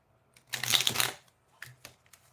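A deck of Use Up All Your Sick Days game cards gets shuffled by hand: one quick riffling flurry lasting about half a second, followed by a few softer card taps, close and quiet.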